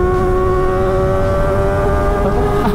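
A Kawasaki ZX25R motorcycle engine holds a loud, steady high-pitched rev up close, its tone nearly constant with a slight rise and fall, with no talking.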